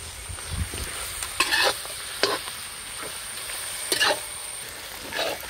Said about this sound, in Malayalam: ഇതിനൊന്ന് നല്ലപോലെ ഇളക്കി കൊടുക്കാം കേട്ടോ